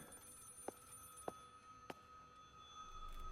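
A telephone in a phone booth rings inside the horror game Maid of Sker: three short, faint rings spaced about half a second apart over a quiet, humming background.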